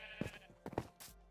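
Sheep in the Minecraft video game give a couple of short, close bleats, with a faint voice in the background.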